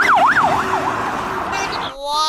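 Toy police ambulance siren with a fast rising-and-falling electronic yelp, fairly loud and close, shifting to a different higher tone near the end.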